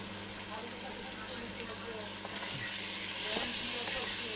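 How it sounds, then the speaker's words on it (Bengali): Meat being sautéed with turmeric and salt in a pan for a Bengali dish, giving a steady broadband sizzle with occasional stirring scrapes throughout, while a voice talks over it. "এখন ভালোভাবে কষিয়ে নিচ্ছি মাংসগুলো"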